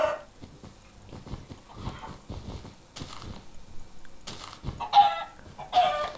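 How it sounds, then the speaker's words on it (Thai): Chickens cluck in the video game Minecraft, with short clucks and pecking-like taps scattered over a few seconds alongside game sound effects, fairly close and moderately loud. "ฆ่าไก่ก่อน"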